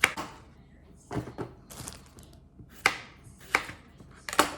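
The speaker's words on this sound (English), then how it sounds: "slice them kind of like a centimetre wide" Knife slicing fresh vegetables on a cutting board into centimetre-wide pieces, a handful of crisp separate chops at an uneven pace, close and clear.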